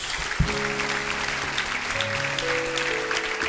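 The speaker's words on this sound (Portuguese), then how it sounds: "Vamos aplaudir nosso Deus, vamos." A church congregation at a Sunday school service claps loudly and steadily throughout, with organ or keyboard chords held beneath the applause.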